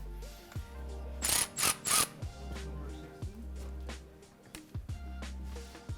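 Ratchet with a big socket tightening exhaust clamps on a 2021-2022 Corvette C8 6.2L cat-back exhaust, heard as several quick bursts of close clicking with short pauses between them.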